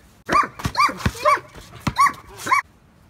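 A dog barks repeatedly at close range, a quick series of sharp, high barks with short whiny yips between them.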